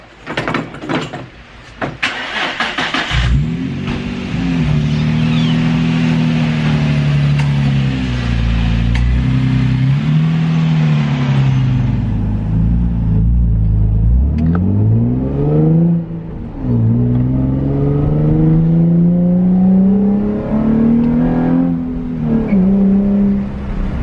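A Nissan 350Z drift car being driven after a transmission oil change: the engine starts, then idles and revs steadily, climbing through gears with several rises in pitch, loud and close inside the car, no talking.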